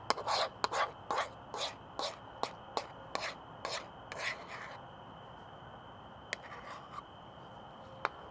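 Rhythmic scraping and rubbing as barbecue seasoning is mixed by hand into pulled pork, a dozen or so close, brisk strokes that thin out into a few scattered scrapes near the end.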